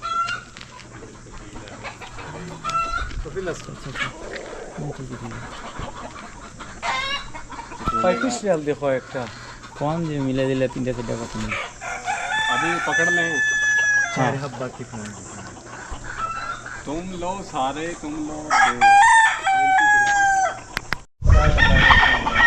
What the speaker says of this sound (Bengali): অনেক মুরগা আছে মুরগি আছে